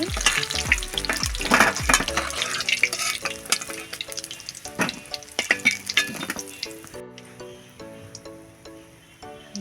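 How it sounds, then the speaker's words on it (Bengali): Arum (mankochu) stems fry in oil until reddish, with bursts of crackling sizzle up close mixed with background music that carries on alone near the end. "এইভাবে একটু ভালো করে লাল করে ভেজে নিতে হবে"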